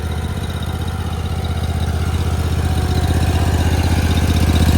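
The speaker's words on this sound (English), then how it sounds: "Engine sounds excellent." The fuel-injected Honda engine of a Ditch Witch 36-inch walk-behind trencher idles steadily up close, its low chugging pulse even and continuous, growing slightly louder toward the end.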